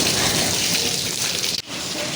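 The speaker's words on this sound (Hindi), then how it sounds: "लेकिन अब यह हुआ है कि बारिश ज़्यादा होने लग गई है" Heavy rain pouring steadily after a hailstorm, a dense continuous hiss of drops drumming on surfaces nearby, with a brief dip near the end.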